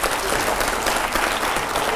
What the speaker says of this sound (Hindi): पहले तालियां तो हो जोरदार।